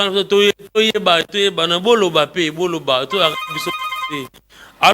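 A telephone rings for an incoming call on a radio phone-in show, a steady electronic tone about a second long heard beneath a presenter's talk.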